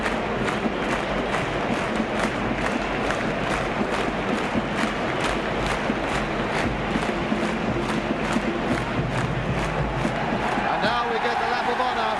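Swindon Town supporters roar and cheer steadily at the 1969 League Cup final, a dense, continuous crowd noise with claps and shouts mixed in, while a commentator talks over it.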